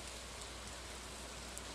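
Steady rain in the farming game Stardew Valley, a constant soft hiss of falling drops with no break or change in level, heard alone.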